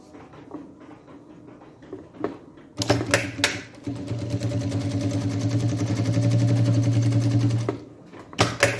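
Sewing machine topstitching a sublimated football boot bag, a loud, steady rapid stitching run of about five seconds, with brief bursts of stitching before and after it.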